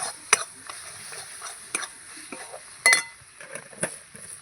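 A spoon stirs and scrapes dried fish bharta with eggplant in a frying pan, with intermittent scraping strokes and metallic clinks over a soft, steady sizzle. No one speaks.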